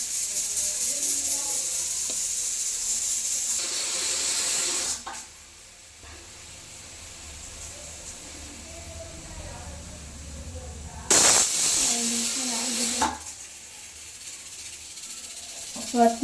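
A pressure cooker cooking greens and lentils lets out loud hissing whistle bursts, one early and another later, with quieter kitchen noise between them.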